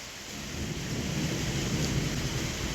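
Steady heavy rain pours down in a continuous broadband wash, loud and close, with no voices.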